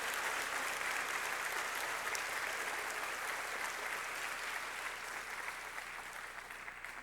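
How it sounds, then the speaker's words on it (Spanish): A church congregation claps loudly and steadily, a dense wash of applause that holds strong and tapers slightly toward the end. "Con un fuerte aplauso."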